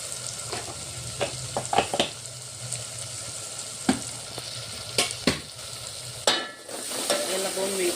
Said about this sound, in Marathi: याला 2 मिनिटं तेल सुटेपर्यंत होऊ द्यायचं आपल्याला